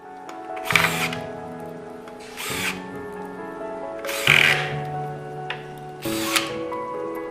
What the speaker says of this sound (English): 2 corner brackets are screwed into place for added strength.